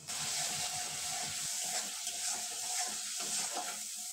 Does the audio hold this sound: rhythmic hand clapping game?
no